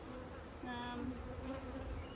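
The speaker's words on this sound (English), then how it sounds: "Look, there's a bee in there." Bees hum softly around an opened top bar hive, a faint steady drone with one insect buzzing briefly louder up close for a moment.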